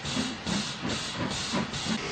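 Steam locomotive pulling away, a steady loud hiss of escaping steam with soft rhythmic chuffs pulsing roughly twice a second, close and continuous throughout.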